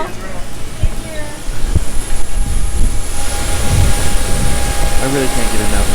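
An airplane engine runs close by at an airport, a loud steady roar with a high whine, building slightly and continuing throughout.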